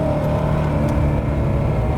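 A Porsche 928 with an early V8 engine revs under added throttle, a loud, steady, deep engine drone heard close up and alone, holding an even pitch throughout.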